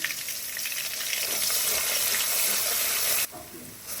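Garlic sizzling in hot oil in a pan with bay leaf and cardamom, a steady broadband crackle and hiss close up, cutting off abruptly near the end to a quieter background.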